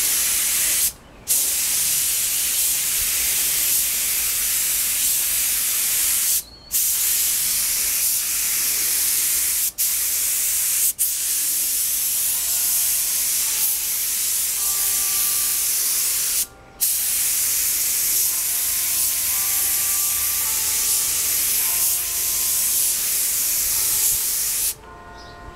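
A spray gun hisses steadily while laying clear coat over Benelli motorcycle parts, a loud continuous spray broken by a few brief pauses between passes.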